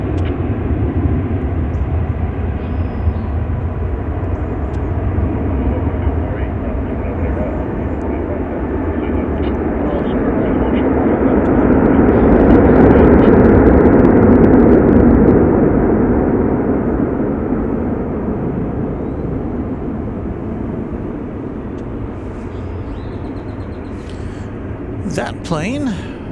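An Asiana Cargo Boeing 747-400 passes at DFW Airport, a broad jet roar swelling to a peak midway and then fading, with a voice talking faintly underneath.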